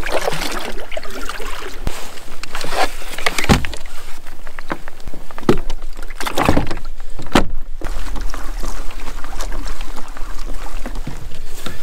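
A kayak being paddled through shallow water while fishing in Puget Sound, with splashing strokes, gurgling water and the occasional scrape or knock of the hull skimming bottom, fairly close and continuous.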